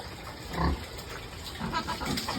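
Pigs on a farm giving low grunts and snorts, a couple of soft bursts over a faint background hum, close and fairly quiet.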